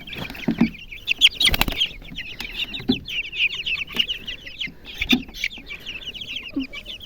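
High, rapid cheeping of young chicks runs almost without pause, with occasional low clucks and soft bumps nearby.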